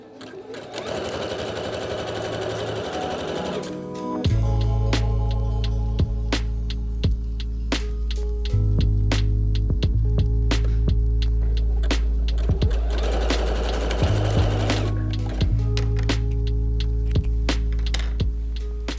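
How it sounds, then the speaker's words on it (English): A sewing machine stitches in a garment sleeve, its steady mechanical whir running loud and close for long stretches, briefly pausing and restarting, with small clicks and handling sounds between runs. "I'm just going to sew all the way around, same as I did before."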